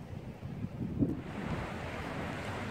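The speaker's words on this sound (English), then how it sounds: "This grotto was the inspiration of Lord Byron, who, as a daring swimmer, defied the waves" Sea waves at Byron's Grotto in Porto Venere, Italy, a soft continuous wash of surf mixed with gusting wind noise, fairly quiet with one slightly stronger surge midway and no voices.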